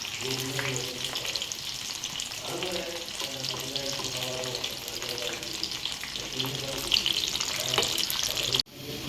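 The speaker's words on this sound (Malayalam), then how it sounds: "ഈ എണ്ണയിലേക്ക് നമ്മൾ സോയ ചങ്ക്സ് ചേർത്ത് വറുത്ത്" Steady sizzling of soya chunks frying in hot oil, close and continuous, with occasional stirring.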